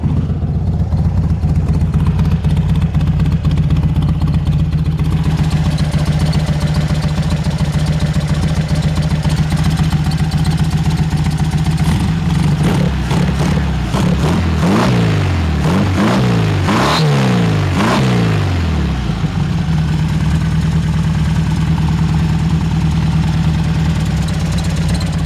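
A 1964 VW Beetle's air-cooled engine with about 2,000 miles on it idles steadily and close, then is blipped through a series of quick revs before settling back to a low, even idle.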